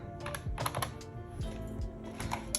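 Small plastic keys are tapped in quick irregular clicks, close up and fairly quiet, with no voices.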